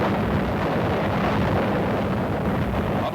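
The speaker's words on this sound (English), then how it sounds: "For the first time, troops were maneuvered with an A-bomb blast." An atomic bomb blast from a 1952 military test with troops roars as a dense, continuous, loud rumble of explosion and wind-like noise, sustained without a break.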